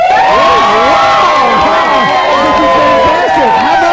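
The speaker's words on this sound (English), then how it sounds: "Everyone get ready to cheer." Studio audience cheering and whooping loudly for the Muppets during a Good Morning America TV appearance, a dense sustained roar of excited voices with high shouts throughout.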